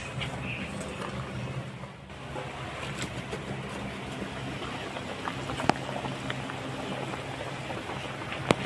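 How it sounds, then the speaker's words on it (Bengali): Fish pieces sit in a simmering fish curry in a pan, producing a continuous soft bubbling and hissing with a few faint clicks, steady and close without speech. "এখন আমি মাছগুলো ছেড়ে দেবো"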